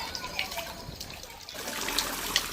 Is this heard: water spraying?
yes